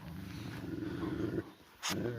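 A chained dog growls in a low, rumbling stretch that breaks off briefly before resuming, with a person's voice talking over it.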